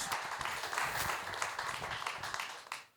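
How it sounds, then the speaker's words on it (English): Audience applause at a hurricane damage experts' gathering, a steady wash of many hands clapping at moderate volume that holds and then tapers off near the end. "So give Paul a round of applause"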